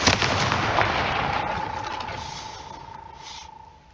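A Confringo fire spell blasting in Hogwarts Legacy, a sharp explosive burst up front followed by a sustained fiery whoosh and a steady ringing hum that gradually fades.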